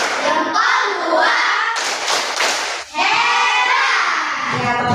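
Classroom children performing a 'tepuk hebat' clapping chant, with a short burst of sharp claps in the middle, set between a teacher's speaking voice before and after.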